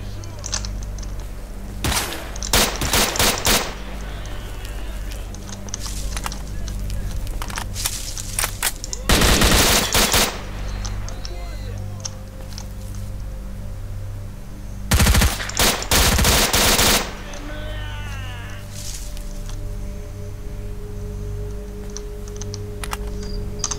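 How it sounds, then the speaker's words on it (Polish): Bursts of automatic gunfire ring out in S.T.A.L.K.E.R. Shadow of Chernobyl, with rapid rattling volleys separated by quieter stretches of ambient game sound and scattered single shots. "Skąd to strzelają?"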